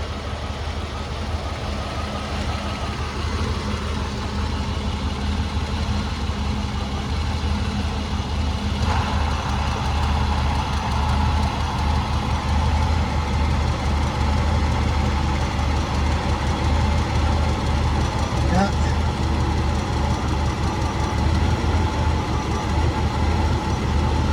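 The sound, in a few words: car engine idling with AC on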